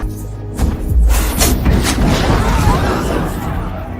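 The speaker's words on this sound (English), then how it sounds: "fire explosions rock the Foregate as Lanfair calmly heads for the city gates" Fiery explosions rock a city's outer district in a fantasy TV drama scene, a heavy boom erupting after a brief lull and rolling into a dense, sustained rumble of crashing debris and blasts.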